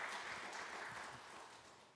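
Church congregation at a Sunday worship service clapping in welcome, a soft, steady patter of applause heard from a distance, fading slightly over about two seconds.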